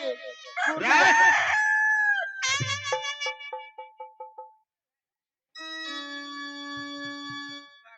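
A rooster crows loudly and chickens cluck in agitated bursts, followed by a lower, steady animal call after a short pause.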